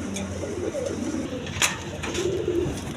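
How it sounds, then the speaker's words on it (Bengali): Pigeons, a breeding pair kept with their chicks, coo in soft repeated low calls close by, with a few brief higher chirps. "এক পেয়ার বাচ্চা সহ দুইটা কবুতর আছে, এক জোড়া।"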